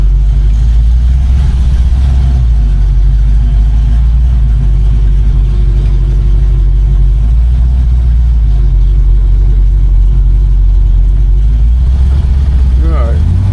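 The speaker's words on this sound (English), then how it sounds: "obviously we got a custom exhaust under here as well. 289 sounds good." A 1965 Mustang's 289 V8 with a mild cam and custom exhaust rumbles steadily at idle with a low, throaty exhaust note, loud and close, with a slight rise in revs near the end.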